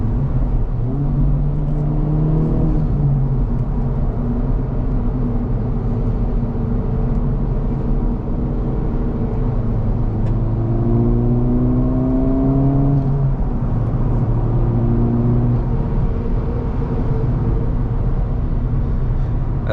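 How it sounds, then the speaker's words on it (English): A 2024 Acura Integra Type S engine with a six-speed manual pulls through the gears, a steady loud cabin drone whose pitch rises and drops with each shift, continuous and close. "Pair it through this sweet 6-speed manual, and the most fun I've had is just rowing through these gears."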